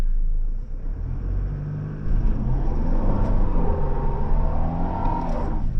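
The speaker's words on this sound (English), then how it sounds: "I'll get the wheels spinning" Toyota LandCruiser Prado wheels spinning with stability control switched off: a loud, steady engine rumble and whir held under throttle, with rising and falling tonal sweeps as the engine revs and the tyres spin, no talk.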